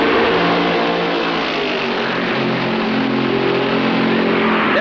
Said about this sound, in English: When the track is clear, the safety car heads for the pits, and Fred Lorenzen puts his foot down.